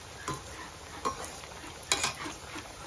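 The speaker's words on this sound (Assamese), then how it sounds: "এনেকৈ লাহে লাহে লৰাই দিব লাগে" A utensil stirring food slowly in a pan over low heat, three soft scraping strokes spaced about a second apart under a faint steady hiss.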